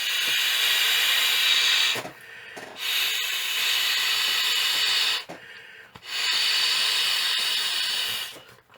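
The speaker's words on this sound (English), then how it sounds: "This is actually designed for you to breathe into it." A person breathes forcefully into the valve of an inflatable expedition mattress, giving three long, close, breathy rushes of air separated by short pauses for breath.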